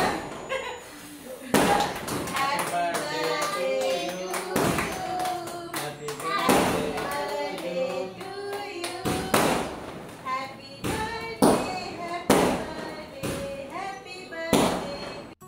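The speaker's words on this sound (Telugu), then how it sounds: "వినిపిస్తుంది కదా బయట నుంచి ఎవరో కరెక్ట్గా వీడి కేక్ కట్టిన టైంకి క్రాకర్స్ పేలుస్తున్నారనమాట" Firecrackers going off outside during a child's seventh birthday cake cutting, a rapid irregular string of sharp bangs and thuds throughout, heard beneath people talking and celebrating indoors.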